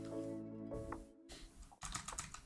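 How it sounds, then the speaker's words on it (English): Clicky computer keyboard typed on during a programming stream, a quiet run of rapid key clicks after a sustained tonal hum that drops out, no voices. "quite a few people enjoy the sound of clicking keyboards when listening to a programming"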